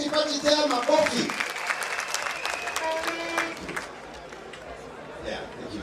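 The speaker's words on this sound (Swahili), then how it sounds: "Mupigie Deputy Party Chair makofi." Delegates applaud the deputy party chair at the Wiper Patriotic Front National Delegates Congress, a full hall clapping loudly, with a voice carrying over it. The applause dies down after about four seconds, leaving quieter room noise.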